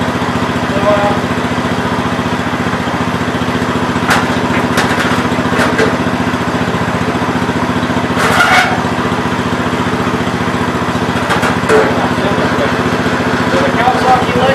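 A Kawasaki engine repowering a Gravely 5200 tractor runs steadily at a constant idle-like drone, with a few brief clatters and bursts over the continuous hum.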